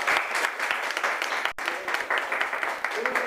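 An audience at a Korean book forum event breaks into sustained applause, thick and continuous clapping from a room full of people with a brief dip partway through.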